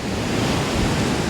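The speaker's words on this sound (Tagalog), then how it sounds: "Pero sa nakikita natin, medyo malakas yung alon." Strong sea waves at low tide along a Philippine shore in Aurora, a loud, continuous roaring wash of surf with wind buffeting the microphone.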